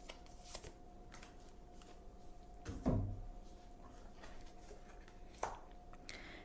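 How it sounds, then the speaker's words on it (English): Oracle cards shuffled by hand, a faint soft riffling with a couple of louder slaps and shuffles near the middle and end, recorded quietly and close. "let's choose an oracle card"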